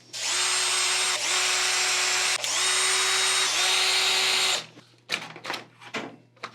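A power drill retightens screws on the arm of a motorized hanging cross skeleton mech, whining loudly in three sustained bursts with brief pauses before stopping, followed by a few short clicks and handling knocks.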